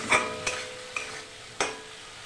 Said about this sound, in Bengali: মশলাটা ভালো করে কষিয়ে নিয়েছি।